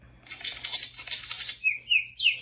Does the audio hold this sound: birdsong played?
yes